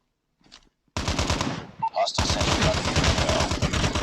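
A placed gun in the mobile shooter Call of Duty Mobile opens up in loud, rapid automatic bursts: a short faint rattle, then sustained machine-gun fire with a brief break before a dense, continuous stream.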